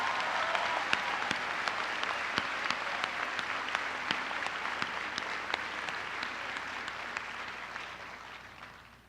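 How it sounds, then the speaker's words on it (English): A large audience applauds retiring teachers at the CVU High School 2017 graduation ceremony: sustained, crowded clapping with sharp individual claps standing out, gradually thinning and fading away at the end. "Let's just give them a quick round of applause also."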